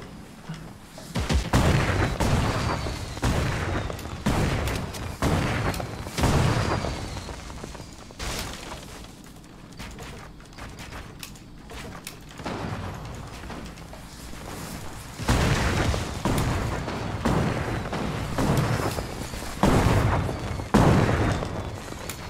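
Repeated booming blasts and bursts of gunfire-like explosions from a rocket launcher in Fortnite fire in clusters, loud and close, with brief lulls between volleys.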